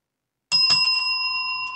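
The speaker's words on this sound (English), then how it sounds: "Well, that was the double bell." A bright double bell rings out after half a second of silence, two quick strikes leaving a clear metallic tone that rings on, signalling the end of a shift at a gaming club.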